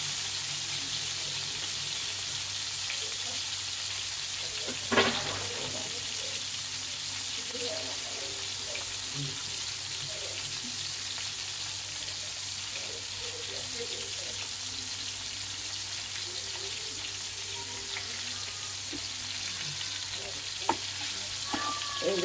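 Hilsa fish frying in mustard oil, a steady broadband sizzle that runs the whole time, with occasional clinks of a utensil and soft stirring sounds over it.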